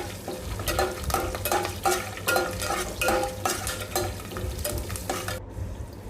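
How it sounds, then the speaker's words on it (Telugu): Cumin, chana dal, urad dal and curry leaves frying in hot oil, a steady sizzle with a spoon stirring and scraping the pan in regular strokes, close and continuous, with no talk. "జీలకర్ర, శనగబ్యాళ్ళు, ఉద్దిబ్యాళ్ళు, కరివేపాకు వేసుకోవాలి. వేసుకొని మంచిగా ఫ్రై చేసుకోవాలి."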